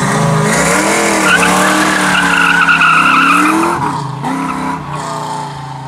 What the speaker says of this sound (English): So leaf spring Mustang doesn't burn out.